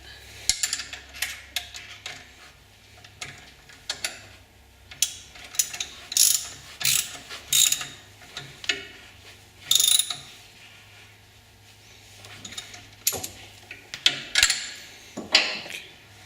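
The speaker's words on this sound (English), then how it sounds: "you're going to want to put on the washer and then the lock nut. And then tighten it." Bursts of close ratchet clicking tighten a lock nut and washer onto an alternator bolt on a custom classic car, coming in irregular quick runs with short pauses over a faint low hum.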